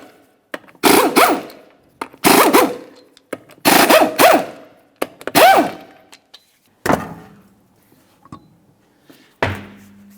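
All five 19mm lug nuts coming off a 2002-2005 Ford Explorer wheel, heard as a series of loud, close mechanical bursts of about a second each with short gaps, the last few lighter and more spaced out, no speech.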